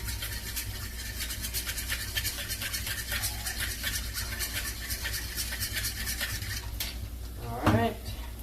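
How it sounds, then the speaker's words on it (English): Whisking ingredients in a bowl while cooking banana split lumpia and menudo, a steady rapid scratchy clatter of the whisk against the bowl continuing throughout, ending with a brief louder knock near the end. "Whisk this up real quick."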